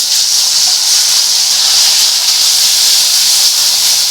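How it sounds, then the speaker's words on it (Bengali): Katla fish pieces hit hot oil in a pan, giving a loud, steady hiss of frying that stays strong and even from start to finish. "তেল অলরেডি আমি চাপিয়ে দিয়েছি গরম করার জন্য। এবার যেটা আমি করব, মাছটা ছেড়ে দেবো।"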